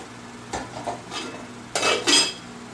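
A metal pot of parsnips clatters and scrapes as it is set down on a stovetop, a few short knocks close by in a quiet kitchen.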